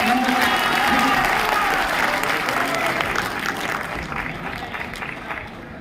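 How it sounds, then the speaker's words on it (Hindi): Loud applause from an audience at a Hindi poetry gathering welcoming a poetess from Bhopal, dense sustained clapping that slowly fades, with some voices mixed in. "आइए जोरदार तालियों के साथ"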